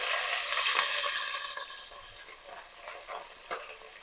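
Vegetable pieces for sambar, including brinjal, green chillies, onion and curry leaves, sizzle in hot oil, loud and dense at first, then easing to a softer crackle with a few brief scrapes.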